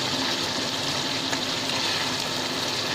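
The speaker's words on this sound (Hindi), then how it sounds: "मसाला हमारा तकरीबन भुनने पे आ गया है, ऑयल आ गया है ऊपर" Masala of tomatoes and spices frying in oil in a pan for aloo matar gobhi, a loud, dense, continuous sizzle and crackle, close up and unbroken.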